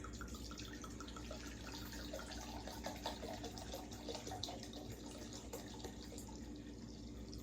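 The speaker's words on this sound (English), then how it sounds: "And then I'm going to add the 2 cups of wine." Wine poured into a cooking pot gives a faint, steady liquid trickle and splash, quiet and continuous with occasional drips against low background noise.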